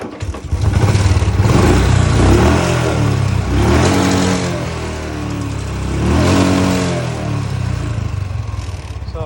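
Bajaj Platina motorcycle engine starting and revving: the engine catches and runs loud and close, rising and falling through two revving swells over a steady idle.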